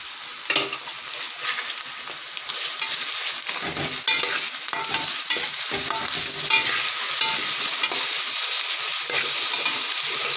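Garlic-ginger paste and onion sizzle steadily in a hot pan while a utensil stirs and scrapes, close and continuous, with no voices.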